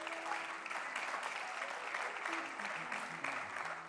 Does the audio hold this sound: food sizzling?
no